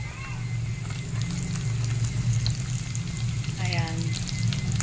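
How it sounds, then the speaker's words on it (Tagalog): Garlic frying with peanuts in a pan, a close, steady sizzle and crackle throughout, with brief bits of a voice over it. "Ayan, saka natin ilalagay yung bawang"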